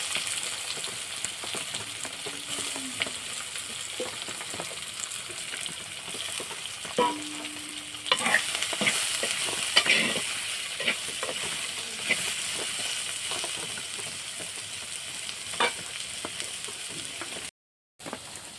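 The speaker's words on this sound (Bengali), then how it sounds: "এবার আমি মোচাটা দিয়ে দিচ্ছি" Banana flower frying with whole garlic cloves and green chillies in hot oil, a continuous close sizzle with occasional stirring knocks and scrapes, no voices.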